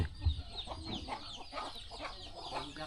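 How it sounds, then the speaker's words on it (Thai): Free-ranging chickens cluck and chatter in a mountain village, several birds calling intermittently over a steady murmur of background activity. "ไก่หาอยู่หากินแบบธรรมชาติ"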